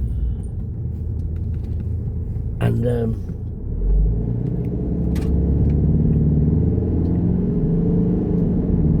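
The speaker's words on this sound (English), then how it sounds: "I love the sound this car makes when it accelerates." A car engine rumbles and builds as it accelerates, the low drone rising steadily over several seconds after a brief spoken word.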